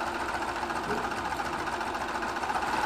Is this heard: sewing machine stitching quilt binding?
yes